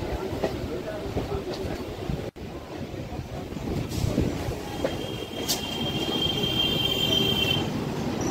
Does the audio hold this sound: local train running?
yes